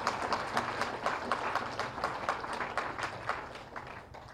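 Audience clapping at a Telugu youth motivational talk, a steady crowd applause with dense rapid claps sustained throughout at moderate level, no voices over it.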